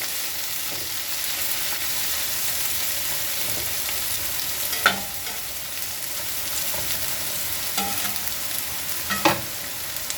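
Mushrooms and onions fry in a pan on the way to steak and fries, giving a steady broadband sizzle throughout, broken by a few sharp clicks of a utensil against the pan.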